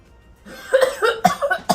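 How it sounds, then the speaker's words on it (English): A woman coughs three or four times in quick, close bursts in a quiet room while doing her makeup. "That was the cough of fear."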